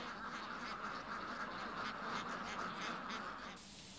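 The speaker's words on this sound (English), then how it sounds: "Peking ducks start life like any other ducks" A flock of Peking ducks quacks in a rapid, overlapping chorus, moderately distant and steady for several seconds.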